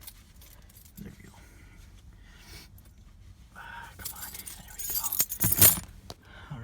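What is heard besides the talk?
keys jangling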